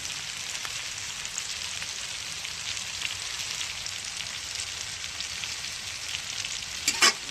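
Vegetables fry in a pan with a steady, bright sizzling hiss that holds evenly and close for several seconds, ending with a couple of sharp clinks.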